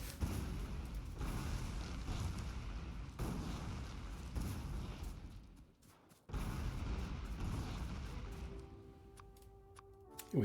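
Grenade blasts in the video game Factorio come as dense, continuous rumbling booms with short pauses between volleys, fairly loud and close. The sound thins out near the end, where a few tonal game sounds appear.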